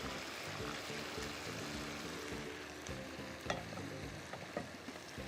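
Karahi spices fry in oil for a Balochi karahi while a spoon stirs them, a continuous close sizzle broken by light scrapes and a couple of sharper clinks, with no talking.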